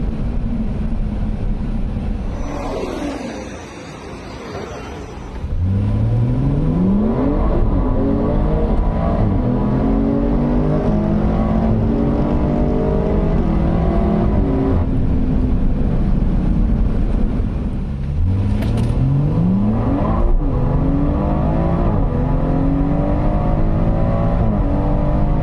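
A BMW M140i in a drag race at the Zolder circuit, with loud rising engine notes across repeated hard acceleration pulls and gear changes, a brief dip near the start, and wind buffeting throughout.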